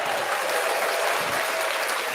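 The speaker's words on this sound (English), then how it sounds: "You got to clap for me. I clap for my damn self." Steady, loud applause from a live talk-show audience, dense clapping filling the whole stretch without a break and with no one speaking over it.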